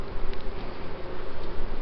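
Honey bees buzz in a steady, close drone during a hive inspection, with faint fluctuations in loudness and no voices.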